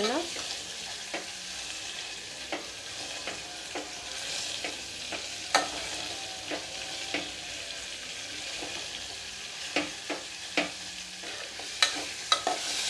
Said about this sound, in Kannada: ಈಗ ಇದನ್ನ ನಾವು ಸ್ಮ್ಯಾಶ್ ಮಾಡ್ಕೊಳ್ಳೋಣ ಸ್ಪೂನಿಂದ ಈ ರೀತಿ ಸ್ಮ್ಯಾಶ್ ಮಾಡ್ಕೋಬೇಕು